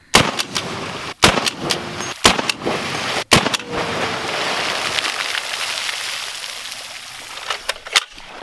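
A Serbu BFG-50A rifle fires into a block of peanut butter outdoors: several sharp, loud cracks, some heard clearly, followed by a sustained, rain-like spatter of falling debris.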